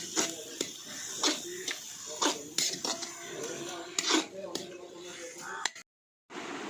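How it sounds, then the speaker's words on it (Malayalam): Onions sautéing in a metal pan for a chicken perattu, with a spoon giving scattered clinks and scrapes at an uneven rhythm, close and fairly soft, while a voice talks quietly between the strokes. "ഇപ്പോൾ നമ്മളെ ഉള്ളി നന്നായിട്ട് വരണ്ട് വന്നുകൊണ്ടിരിക്കുകയാണ്. ഇത്രയൊന്നും പോരാ, നന്നായിട്ട് വഴറ്റിയെടുക്കണം."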